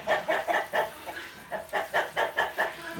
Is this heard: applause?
no